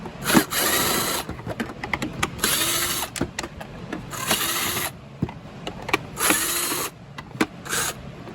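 A power drill removes screws from the back of a Hoover WindTunnel 3 vacuum (UH72615), its whirring bursts starting and stopping repeatedly with ratcheting clicks, close and loud.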